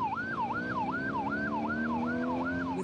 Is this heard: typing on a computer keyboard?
no